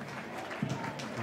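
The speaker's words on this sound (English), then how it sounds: "The applause you can hear in the background for Ben Warland as he makes his way all the way around the pitch to the tunnel area" Soft, distant applause rolls through a stadium crowd at an A-League match between Sydney FC and Melbourne City FC as Ben Warland leaves the pitch, sitting faintly beneath commentary.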